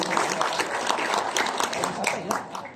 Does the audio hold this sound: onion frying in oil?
no